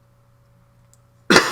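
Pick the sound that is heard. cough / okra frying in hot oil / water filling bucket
cough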